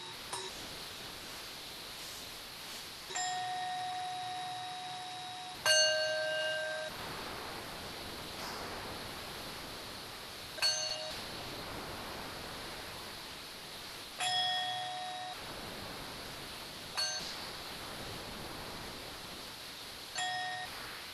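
Several clear meditation bell tones ring out one after another at a slow, even pace, each struck brightly and left to fade gently over a soft hiss.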